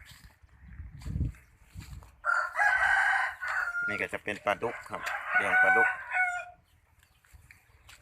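A rooster crows loudly and at length near a backyard farm plot with fish and crab ponds, with other chickens around. Someone talks before and during the call.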